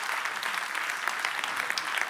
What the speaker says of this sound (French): On peut les applaudir, ces anciens, s'il vous plaît